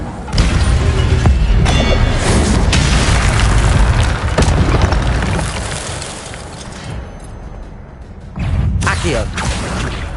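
Fire spell Incendio cast in Hogwarts Legacy on PS5, a loud booming burst of flame among other spell effects, with a brief lull before another whooshing blast.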